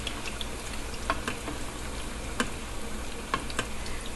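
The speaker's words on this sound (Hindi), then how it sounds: "ये कोफ्ते फ्राई होंगे और फिर हम साइड से ऑयल लेके इसके ऊपर थोड़ा थोड़ा सा डालेंगे" Egg koftas frying slowly in oil over low heat for a Nargisi kofta curry, giving a steady soft sizzle with faint crackles and a few sharper pops throughout, close and even.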